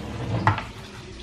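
Stirring and sizzling in a wok while frying chili sambal in oil for seblak, a spicy Indonesian krupuk dish, with loud close frying hiss, a sharp scrape of the utensil midway and another stir near the end.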